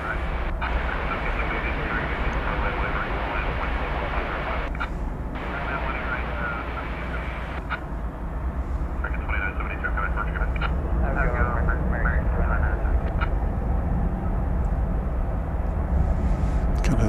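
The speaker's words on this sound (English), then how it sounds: "that'll be a Dreamliner Dash 9. We'll be seeing that taking off shortly here on Runway DFW." Boeing 787-9 Dreamliner jet engines at DFW airport at night, a steady broad roar that swells slightly louder in the second half, with intermittent talk over it.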